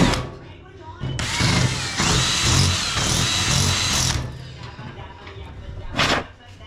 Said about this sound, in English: Then we drill that shit.